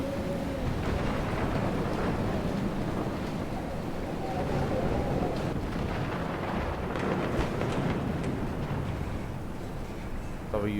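A loud thunderstorm in the video game Life is Strange sends a continuous roaring wash of wind and rain with rumbling surges, dense and unbroken throughout.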